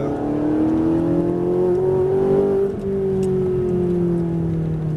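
A Ferrari 458 Italia's engine pulls hard under full throttle on a circuit, one steady, loud rising drone that climbs through the revs, dips briefly as it shifts, then carries on strong with no talk over it.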